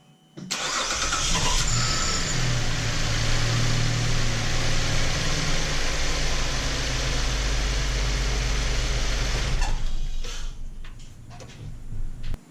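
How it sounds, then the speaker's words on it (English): Car engine cranking and catching after new spark plugs were installed, then settling into a steady, loud idle for about nine seconds before shutting off, heard close up in a garage setting. "I'm going to go ahead and start it before I put the engine cover back on and make sure it's running fine"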